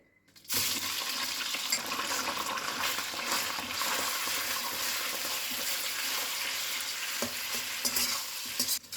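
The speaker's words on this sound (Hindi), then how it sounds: "तो तेल में अब मैं डाल दूंगी चिकन।" Chicken dropped into hot oil in a greased wok on high flame, a sudden loud burst of hissing that settles into a dense, continuous close sizzle for several seconds.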